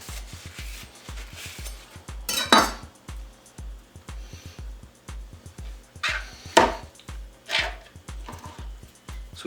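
A knife cuts an onion on a board for bruschetta chicken, making a steady, fast run of close, dull knocks with a few louder scraping strokes in between, and no voices.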